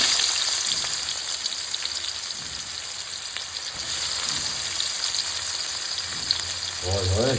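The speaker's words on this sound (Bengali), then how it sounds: "ওই একই তেলে এবার আমি একটু পেঁয়াজ কুচি দিয়ে দেবো" Chopped onion hitting hot oil that was already used for frying, giving a steady close crackling sizzle with faint stirring, and a brief voice near the end.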